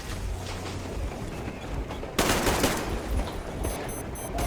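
Gunfire in the video game Metro Exodus: a quieter stretch of low rumbling gives way halfway through to a sudden louder burst of shots and impacts, with sharp high clicks near the end.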